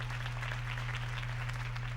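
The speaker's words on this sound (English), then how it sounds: "If only Mr. Wayne, my campaign's largest backer, could have heard that applause" Continuous crowd applause at a campaign speech in the Batman Telltale video game, a steady wash of clapping set against a strong low electrical hum.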